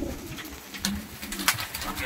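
Pigeons kept by a pigeon breeder in Faisalabad coo in short, low, throaty calls, a few distinct coos rising over a steady background murmur.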